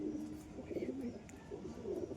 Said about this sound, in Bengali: কোয়ালিটির পায়রা আর খাড়ান দেখো